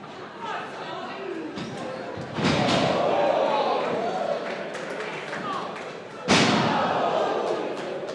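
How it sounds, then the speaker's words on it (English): A pro wrestler crashes knees-first onto an opponent's raised knees after a blocked shooting star press in a tables title match, giving a heavy thud that sits under continuous commentary and crowd noise. A second sharp impact follows near the end. "High impact shooting star press, blocked, knees first, lands Scott Starr right on the knees of Sam"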